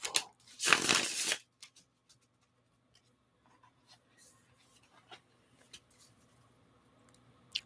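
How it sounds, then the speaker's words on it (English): An enormous deck of cards gets riffled in one loud, close burst lasting about a second, followed by quiet scattered taps and soft shuffling rustles in a hushed ASMR setting. "As I'm getting the cards shuffled. This is an enormous, enormous deck."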